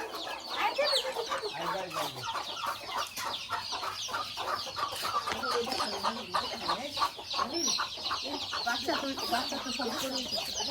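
Chickens and roosters at an early morning feeding cluck continuously in a busy, overlapping flock chorus, fairly close, with faint voices in the background.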